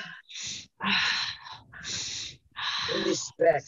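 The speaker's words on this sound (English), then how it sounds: "Breathe in, breathe out." Students in a yoga class breathe deeply in and out, a few audible rushes of inhaling and exhaling close by, with some talking mixed in.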